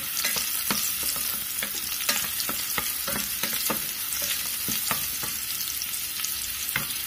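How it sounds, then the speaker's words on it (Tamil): Small shallots sautéing in a pan for paruppu sambar, a steady close sizzle with frequent light scraping and stirring clicks, continuous and without talk. "சின்ன வெங்காயம் லைட்டாக வதங்கினதும் நம்ம தக்காளி சேர்த்துடலாம்."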